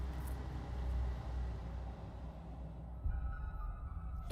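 Bus engine in the video game Little Hope, a steady low rumbling motor drone with a slight shift in tone partway through, heard alone at moderate distance.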